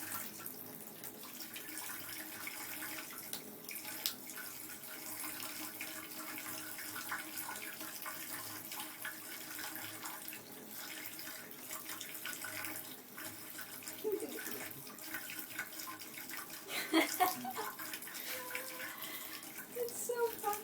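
A kitchen or bathroom faucet runs steadily, spilling water into a tub while a cat drinks from the stream, a continuous close splashing hiss with a few louder surges and voices talking over it.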